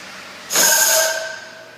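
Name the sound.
seam welder table opening after weld completes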